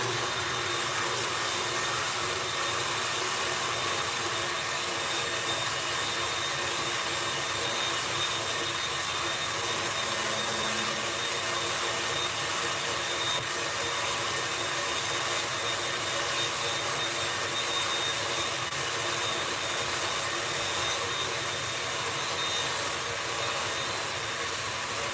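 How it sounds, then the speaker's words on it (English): A stand mixer whips egg whites for macarons, a loud, steady, continuous whirring roar that holds unchanged for about twenty-five seconds with no talking. "I am going to turn my stand mixer on and get those egg whites nice and fluffy"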